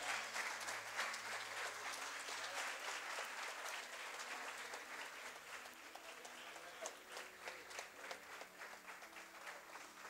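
A church congregation stands and applauds steadily for about ten seconds, a dense, even wash of many hands clapping at moderate distance with faint voices underneath.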